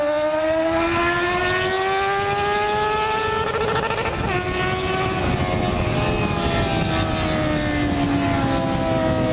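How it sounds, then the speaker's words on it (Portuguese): A steady, loud Yamaha FZ6 motorcycle engine drone that rises in pitch as it accelerates, sustained for several seconds. "Agora o Rex acelerar mais, ele tá com amortecedor de direção"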